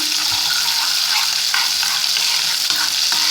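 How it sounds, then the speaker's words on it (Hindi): Garlic sizzling in hot oil for a moong dal tadka, a steady loud hiss of frying close by, with occasional faint stirring scrapes and no talking. "लाइट सा लहसुन को कलर आने देंगे।"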